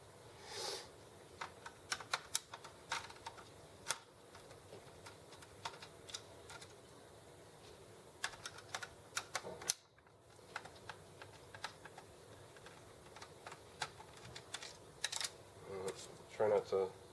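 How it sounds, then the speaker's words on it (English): Small screws being taken out of a Sega Dreamcast console during repair, heard as scattered light clicks and ticks of a screwdriver and metal parts, fairly quiet and intermittent. "then you just take these 4 screws off"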